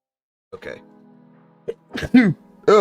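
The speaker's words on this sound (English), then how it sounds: "Oh man, I'm sneezing." A man at his desk sneezes sharply twice near the close, preceded by a brief cough-like burst and some sniffing breaths.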